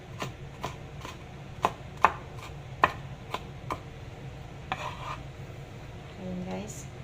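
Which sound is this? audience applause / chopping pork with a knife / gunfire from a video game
chopping pork with a knife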